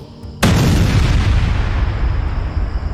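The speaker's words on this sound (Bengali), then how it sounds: "মুহূর্তের মধ্যেই বোমা ছোঁড়ার শব্দ।" A sudden loud bomb blast in an audio drama, an abrupt boom that cuts in from near quiet and then holds a long heavy rumbling roar to the end.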